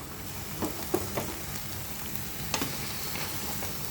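Crab for dinner cooks in a pan, giving a soft continuous sizzle broken by a few light taps and stirring knocks, quiet and close with no talk.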